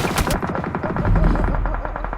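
Rapid bursts of automatic gunfire rattle continuously, dense and close, with a deep low rumble underneath, in the game PUBG.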